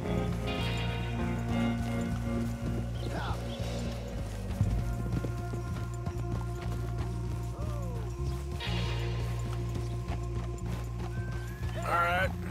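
Horse hooves clip-clop steadily in Red Dead Redemption 2 as riders near a frontier stable, an even trotting rhythm under a constant low musical drone, with an occasional whinny.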